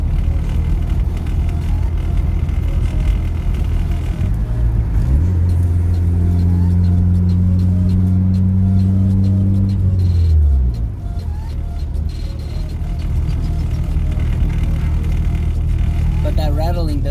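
Rear-wheel-drive K-swapped Starion driving, steady road and engine rumble with a rising-then-falling engine tone midway and persistent rattling underneath.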